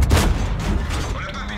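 A tank cannon fires in World of Tanks, a T26E4 tank game, with one sharp, loud blast at the start that booms and then decays into a rumbling tail.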